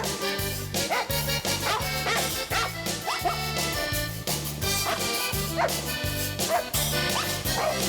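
Dogs bark and yip over a loud, steady musical backing with a strong rhythmic beat; the barks are partly buried in the music.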